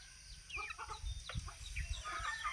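Native Visayan chickens cluck and murmur softly nearby in a quiet yard, with a few short scattered calls overlapping.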